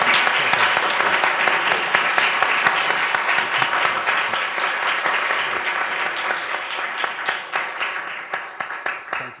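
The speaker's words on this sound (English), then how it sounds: "I think we should offer our guests a round of applause and bring it to a close" An audience applauds the guests at the close of a conversation event, steady dense clapping from a crowd that carries on throughout, loud and close, then thins slightly toward the end with individual claps standing out.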